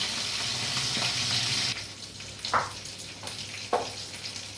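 Fish frying in a pan gives off a steady, fairly loud sizzle for the first couple of seconds, then settles into a softer crackle broken by a few sharp clatters.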